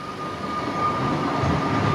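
A Comeng electric train at Flinders Street station in 1999 hums steadily with a constant electric whine and a low rumble, growing slightly louder partway through, with no voices.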